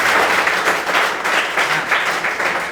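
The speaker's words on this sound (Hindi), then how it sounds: "एक बार ताली मार दीजिए पहले आप लोग।" A classroom of students applauding together in a Class 10 biology lesson, steady continuous clapping from many hands at close range, with no speech over it.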